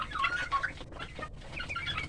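Free-range kampung chickens clucking while pecking at a feed mix of 35% commercial feed with banana stem and fish bran, several soft overlapping clucks and chirps at close range, steady and busy, with no voices.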